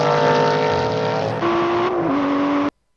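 Aston Martin Vantage GT8 and GT4 race cars in a drag race, a loud, steady engine drone with sustained harmonic tones that shift pitch midway, then cuts off abruptly into silence.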